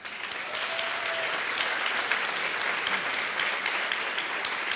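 An audience at a film Q&A gives steady, dense applause. The clapping of many hands continues evenly throughout, with a faint voice briefly audible under it.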